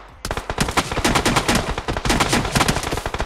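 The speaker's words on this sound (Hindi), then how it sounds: "सामने से फायरिंग आती है भाई बंदे की।" Rapid bursts of automatic gunfire from the battle royale game BGMI crack out loud and close, a sustained stream of shots with short pauses and no voices over it.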